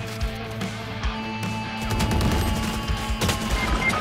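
Gunfire in the video game Valorant, a rapid burst of shots with crashing impacts over a steady game hum, moderately loud.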